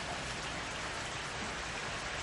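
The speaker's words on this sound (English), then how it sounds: "And boy, did it rain." Heavy rain pours as a steady, dense hiss of falling water, constant and unbroken, moderately quiet, with no voices or other sounds.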